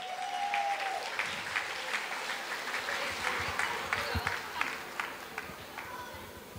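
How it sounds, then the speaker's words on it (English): Applause from an audience at a church silver jubilee cultural evening, a steady wash of clapping with a few sharper individual claps standing out, and faint voices underneath. "Round of applause for our kids."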